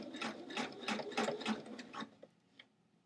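Sewing machine stitching along the hem edge of a pair of jeans, a quick run of rhythmic mechanical clatters lasting about two seconds before slowing to a couple of isolated clicks, fairly faint and close.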